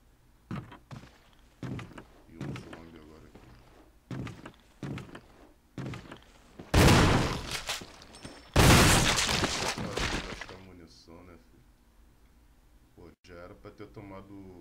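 Gunshots in Resident Evil HD Remaster: several sharp, separated blasts and thuds spaced a second or so apart, followed by two long, loud bursts, with a player talking in between.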